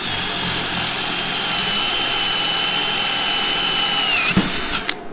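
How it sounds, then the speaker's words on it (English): A power drill fitted with a 3/8 inch spade bit bores into wood with a steady, loud whine that holds for several seconds, then winds down with a few clicks. "drill a 3/8 inch hole in each end there"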